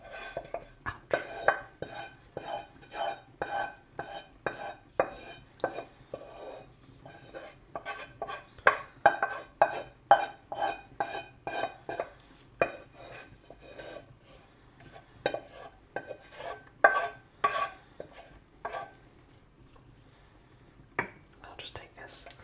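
A spoon scrapes shepherd's pie filling from a pan in a run of soft, rhythmic metallic scrapes and clinks, close and quiet, with whispering throughout.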